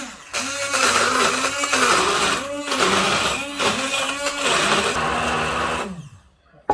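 A blender purees drained sweetcorn with a loud, close motor whir that pulses in repeated surges as the blades churn, then cuts off abruptly near the end.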